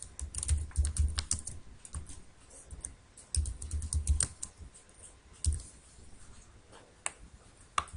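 Quick, light clicking taps from a computer keyboard as answers are typed into a Google Form, in uneven bursts with short gaps between, close and fairly quiet.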